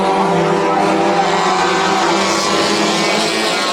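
Race cars roar around the Bakersfield Speedway oval during heat races, a loud, continuous multi-engine drone that stays close and steady, and an announcer talks over it.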